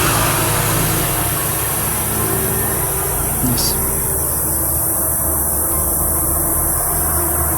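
Road traffic runs steadily beside a church in the Philippines, a continuous loud rumble of engines that stays unbroken throughout.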